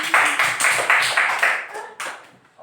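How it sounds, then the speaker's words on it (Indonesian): A classroom of students claps together in a rhythmic, patterned beat, about eight sharp group claps at a steady pace, then a final clap after a short pause, close and lively. "Tepuk tangan dulu lagi."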